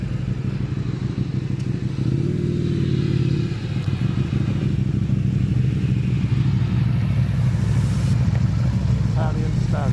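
A KTM or Aprilia Tuono V4 motorcycle engine idles and revs loudly and continuously up close, with a steady mid-low drone, under intermittent talk and road noise.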